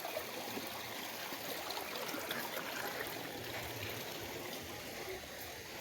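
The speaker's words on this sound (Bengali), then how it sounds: "এই জলটা সারা রাত কলকল কলকল করে আওয়াজ হচ্ছে মনে যেন বৃষ্টি হচ্ছে" A hill river running over stones makes a soft, steady murmur and trickle, faint and continuous, with no voices.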